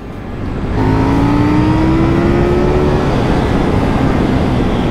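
A KTM Duke 890 motorcycle engine revs hard and accelerates up close, its pitch climbing steadily as it pulls away, loud and alone with no talking.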